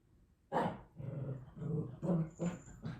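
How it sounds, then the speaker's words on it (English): An indoor dog gives a low, rumbling growl that breaks into several short, gruff barks, close and fairly loud, with no talking. "sorry about my dog."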